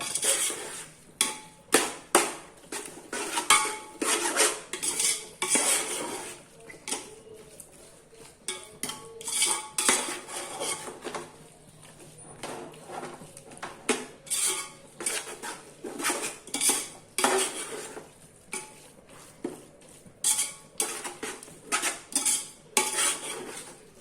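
A metal spoon scrapes and clatters against a pot while biryani masala with cumin powder is stirred, in repeated irregular bursts of clinking and scraping, close and fairly loud, with a faint sizzle underneath.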